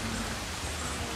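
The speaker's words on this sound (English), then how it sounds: "It rains when the sky's clear." Steady rain falling outside in the front yard of a house in Dominica, a dense even hiss with no distinct drops, close and constant throughout.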